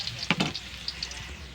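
Garlic frying in a pan for a bitter gourd dinner: a brief close crackling sizzle with a couple of sharp utensil taps against the pan.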